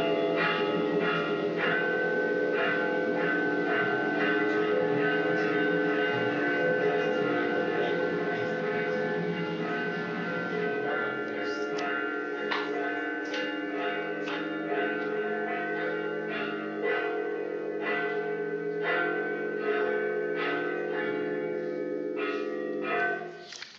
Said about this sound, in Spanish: Dos cuerdas a cuatro badajos y él va a navegar con las campanas tocando una, la otra o las cuatro a la vez.